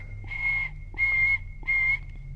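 A person whistles to imitate the backup beeper of a reversing vehicle at a church music event. Three evenly spaced, steady, pure tones of equal length are heard, loud and close, with no talking.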